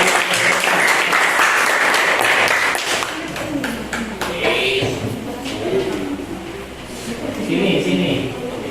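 A classroom of students claps for a classmate called up to present, a burst of lively applause at the start that thins into scattered claps as a teacher talks over it.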